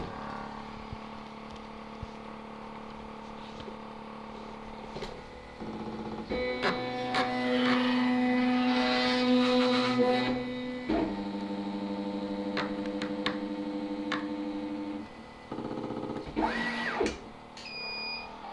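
A pick and place machine starts up with its pumps running: a quiet hum, then loud sustained tonal whirring and buzzing with mechanical clicks and shifting pitches that ease off and restart near the end.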